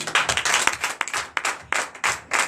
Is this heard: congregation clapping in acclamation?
yes